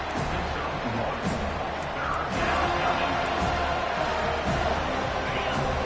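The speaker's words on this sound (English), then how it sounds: "Decibels rising as the crowd gets behind this defense on 3rd down." Stadium crowd at a football game roars as fans rally behind the defense on third down, a dense, sustained wash of cheering and noise with a commentator's voice audible over it.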